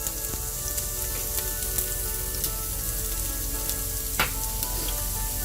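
Onions sizzle and fry in oil in a pan on the stove, a steady soft crackle with scattered pops and one brief scrape of stirring, no voices.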